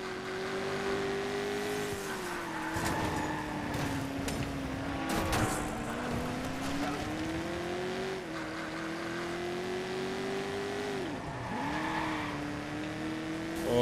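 Racing car engines from the Watch Dogs video game multiplayer race drone steadily, pitch rising and falling as they rev and shift, with a brief tire squeal; continuous and moderately loud.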